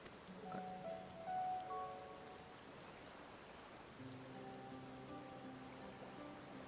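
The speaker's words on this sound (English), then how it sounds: "Oh, are we just going to sit out in the rain anyway?" Steady rain falls in the Final Fantasy XIV video game, a soft continuous wash of patter under layered sustained musical tones that swell and shift throughout.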